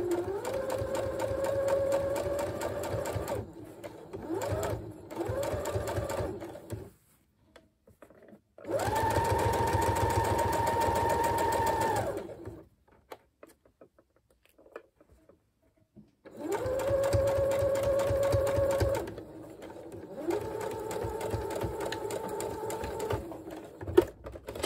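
An electric sewing machine stitches a dress shirt sleeve in three steady whirring runs of rapid needle strokes, separated by pauses and soft handling noises, close and clear with no talking.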